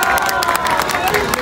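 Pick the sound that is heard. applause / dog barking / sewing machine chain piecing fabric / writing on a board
applause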